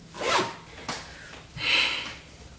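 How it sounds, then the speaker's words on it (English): Three quick zipper pulls close by, brisk rasping swipes with short pauses between, the last one longest and brightest. "when you unzip them they sound like a zip"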